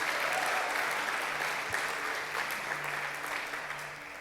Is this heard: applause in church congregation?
yes